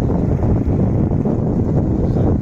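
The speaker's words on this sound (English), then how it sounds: "The wind is blowing too much fast here." Strong wind roars steadily across the microphone at a gondola station, a loud continuous low rumble with no clear breaks.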